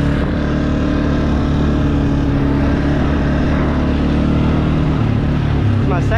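An off-road vehicle's engine revs hard during a wheelie while mudding at Sugar Creek, a loud, steady, droning roar with strong low harmonics that runs through the whole stretch without pause.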